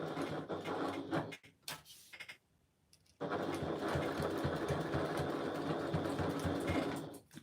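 A sewing machine stitches in bursts, with a short run, a brief pause and then a long steady whirring run, close and clear.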